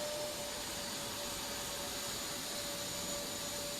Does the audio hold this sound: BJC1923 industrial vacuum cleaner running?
yes